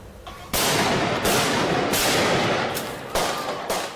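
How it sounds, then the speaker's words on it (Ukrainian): Heavy bursts of Kalashnikov rifle gunfire in central Paris, rapid and loud, in several harsh volleys separated by brief breaks. "Стріляють у центрі Парижа."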